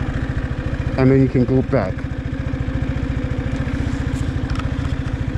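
A motorbike engine idles in first gear with a steady, rapid putter that pulses evenly and close by, while someone briefly talks over it.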